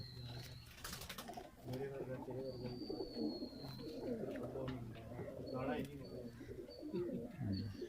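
Teddy pigeons on a rooftop coo in soft, low, repeated throaty calls. Voices talk nearby, a few higher chirps and a brief wing flutter come through, and the whole scene is faint.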